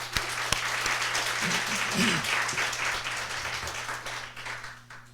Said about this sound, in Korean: 렘넌트에서 우리 박수 한번 치겠습니다